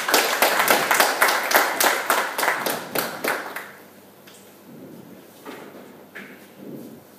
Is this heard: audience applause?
yes